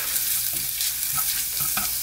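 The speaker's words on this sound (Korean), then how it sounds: "자, 돼지고기를 넣습니다." Pork hitting a hot pot with oil and chili powder for sundubu-jjigae, a dense continuous sizzle and crackle close by, with a few soft stirring knocks underneath and no talking.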